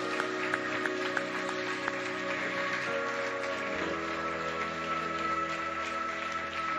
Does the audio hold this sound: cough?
no